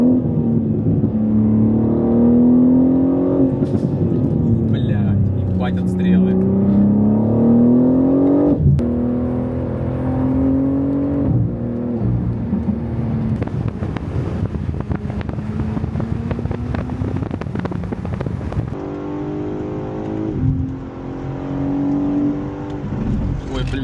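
A BMW M3 Touring engine pulls hard along a mountain trail in Croatia, a loud droning tone rising and falling through gear changes with wind buffeting, and someone talks over it throughout.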